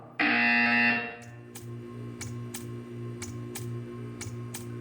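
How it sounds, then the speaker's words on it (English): A loud, harsh electronic buzzer from the video game Portal 2 blares for about a second, followed by a steady low hum and regular ticking clicks. "You will hear a buzzer."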